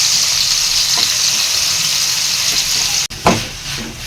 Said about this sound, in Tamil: தக்காளி வெங்காயம் பட்டு போட சொல்லிட்டாங்க மாஸ்டர், அங்கேருந்து சொல்கிறாங்க. போட்டாச்சு.